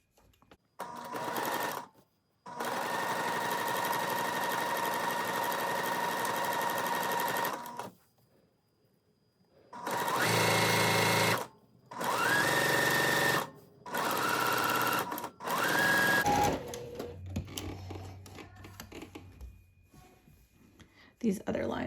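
Sewing machine stitches a seam on a rainbow seersucker dress in several long runs separated by pauses, loud and close, with faint handling sounds between bursts.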